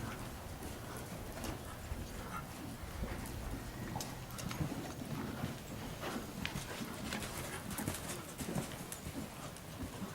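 A ridden horse steps along, its hooves giving a soft, irregular clip-clop over a constant outdoor hiss, with no talking.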